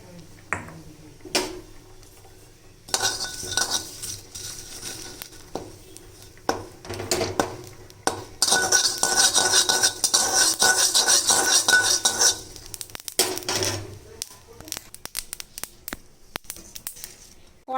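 A separate wok goes onto the stove beside a pot of cooking dal: metallic clanks, scrapes and pan knocks come in bursts, with a loud stretch of sizzle-like rushing in the middle.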